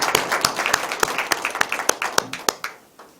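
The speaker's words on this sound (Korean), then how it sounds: "감사의 박수를 같이 올리도록 합시다" An audience in a lecture hall claps in thanks, a modest crowd producing quick overlapping claps that taper into a few scattered final ones over about three seconds.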